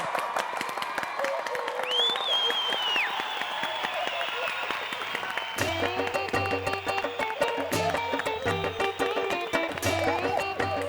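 Loud, dense crowd applause and cheering at a live Hindi comedy show, a steady roar of clapping that runs the whole stretch, with music joining underneath about halfway through.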